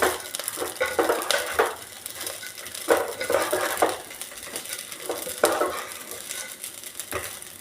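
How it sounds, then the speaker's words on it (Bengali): A utensil stirs rice frying with turmeric in a pan for festive pulao, giving repeated scraping and rattling strokes over a soft, steady sizzle, close and moderately loud. "দেখুন আস্তে আস্তে কি সুন্দর লাল লাল ভাজা হয়ে গেছে চালটা এবং হলুদটাকে আস্তে আস্তে মিশিয়ে দিচ্ছি"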